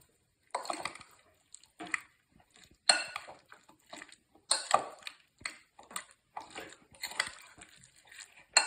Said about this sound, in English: And then we're going to stir that up.